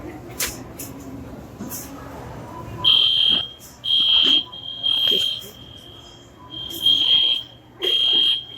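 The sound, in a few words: store fire alarm going off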